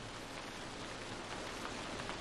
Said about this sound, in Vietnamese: Nhưng mà mưa lớn quá.